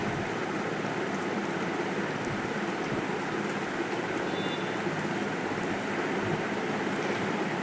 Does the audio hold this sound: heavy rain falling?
yes